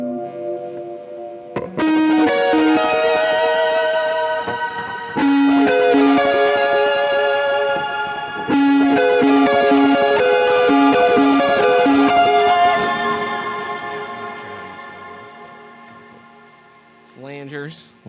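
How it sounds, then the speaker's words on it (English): Sustained guitar chords through a Kemper amp's harmonized reverb ring out in a wash of shimmering, pitch-shifted reverb, swelling and decaying in long layered tails with a few separate strums. "It's like a harmonized reverb."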